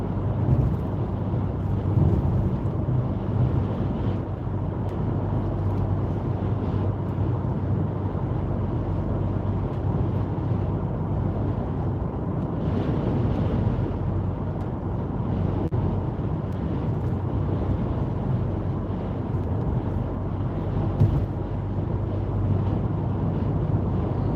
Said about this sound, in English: Right, really windy up here.